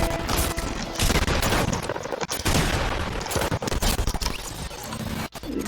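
Revolver gunshots from a shooting video game crack out in dense, rapid bursts over a loud, continuous game soundscape, with brief pauses between volleys.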